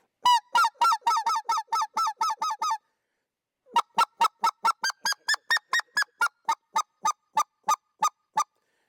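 Sharp, nasal specklebelly goose clucks blown on an Anatra goose call come as two runs of quick, evenly spaced honks with a short gap between them, loud and close with no talk.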